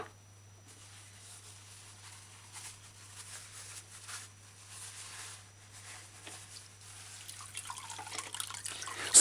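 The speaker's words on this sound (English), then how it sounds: "Pour your mixture through the cloth, through the strainer, into a clean bowl." Pineapple drink mixture is poured through a cloth and strainer into a clean bowl, making a faint, steady trickle and drip over a low background hum, with no talking.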